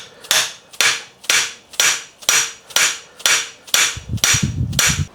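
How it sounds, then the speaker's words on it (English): A hammer strikes a metal tube, driving it onto a suspension fork steerer, in nine evenly spaced, sharp ringing blows, each decaying briefly before the next, close and loud. "this metal tube basically slides over there, hit it with a hammer, and it drifts it home"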